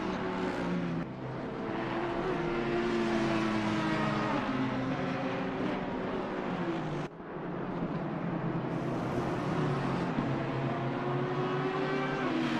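Race cars in the Assetto Corsa Competizione sim racing game at Misano, a loud continuous engine roar with rising and falling pitch as cars battle closely, a brief dip midway, then the drone resumes.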